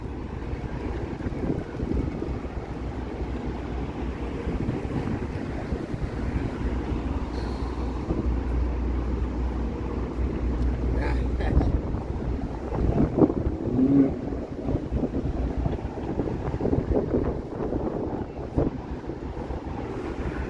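Wind gusts across the microphone outdoors along King Street in Toronto, a steady loud rumble for the whole stretch with no clear voices.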